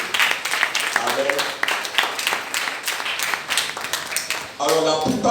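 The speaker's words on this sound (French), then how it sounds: "Je voudrais qu'on applaudisse véritablement pour eux" A church conference audience applauds for the evangelists with steady, mid-level clapping, mixed with voices and a speaker talking near the end.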